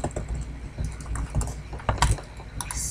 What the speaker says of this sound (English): type your name up here